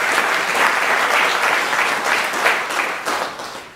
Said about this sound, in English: Let's have a warm round of applause for Zach.